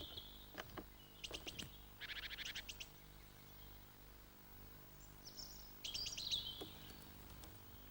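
Great tits and blue tits call at a garden feeder in short bursts of high, thin chirps and rapid repeated notes, a few separate calls spread across a quiet background, close and fairly clear.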